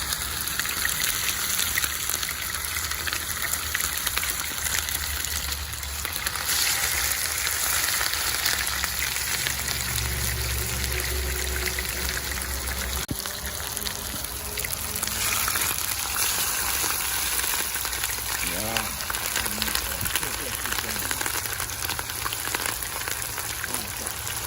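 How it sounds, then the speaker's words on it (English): Sliced snapper fries in a pot over a fire, giving a dense, continuous sizzle and crackle like steady rain that holds at an even level throughout, with no voices over it. "So we're gonna fry some snapper, some sliced one."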